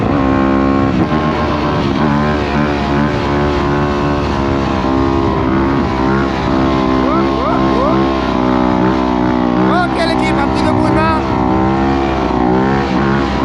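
A 250 motorcycle engine drones loud and close, its pitch rising and falling through revs during a wheelie, with someone talking briefly over the steady engine.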